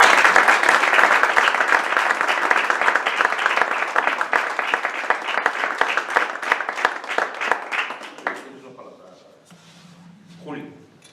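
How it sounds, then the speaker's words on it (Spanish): Dense applause from a crowd, loud and steady for about eight seconds, then fading out as a voice begins to speak. "Un gusto el aplaudirte, Julio."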